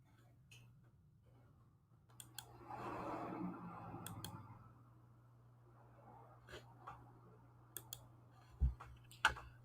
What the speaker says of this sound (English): I don't know if y'all could hear me or hear me clicking on things